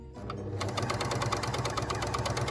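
A Bernina L450 overlocker gathering fabric into ruffles, running steadily at close range with a fast, even mechanical chatter and no talk over it.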